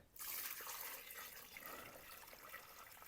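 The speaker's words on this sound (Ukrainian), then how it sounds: "Тепер я заливаю воду." Water poured into a dry building mix at a rural house build, a steady splashing rush that starts abruptly and runs on continuously, faint and alone.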